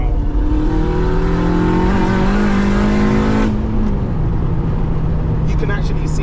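A turbocharged Honda Civic FN2 accelerates hard at full throttle, its engine note climbing loudly, then dropping at a gear change before pulling again. Voices talk from inside the car over the engine.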